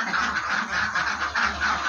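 Ducks quack in rapid, repeated bursts, several birds close by calling over one another in a noisy, rhythmic chorus with no talk.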